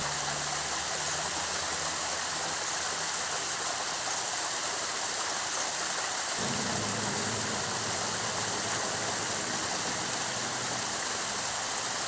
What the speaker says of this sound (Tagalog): sinamantala ko nga ang pag-agos ng malamig na tubig na nagmumula sa bundok